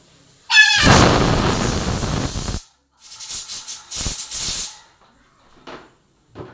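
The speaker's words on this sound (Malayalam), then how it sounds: "ഈ ചറപറാന്നുള്ള അപ്പുറത്തുനിന്നും ഇപ്പുറത്തുനിന്നും ഒക്കെയുള്ള ഈ കുക്കറിൻ്റെ വിസിലടി കേൾക്കണം" Pressure cookers whistle from neighbouring houses: a brief tonal whistle swells into a loud, sustained steam hiss, followed by several shorter hissing bursts and fainter far-off puffs.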